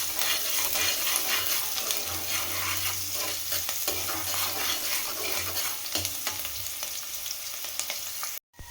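Chopped onions fry in a pan for egg gravy, giving a steady close sizzle with frequent scraping and stirring strokes throughout, ending in a brief sudden cutoff.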